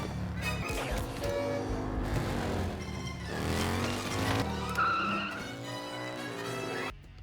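A frenetic motorcycle chase through city streets in an Indiana Jones film scene brings loud revving engines, skidding tires and screeching passes in quick succession, with music and crashes mixed in, cutting off sharply at the end.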